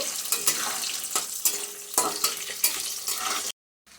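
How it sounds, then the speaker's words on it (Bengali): Raw plantain and other vegetables fry in a pan, giving a close, steady sizzle broken by repeated scraping stirs of a spatula. The sound cuts off abruptly near the end. "কাঁচকলাটা একসাথে ভেজে নিচ্ছি"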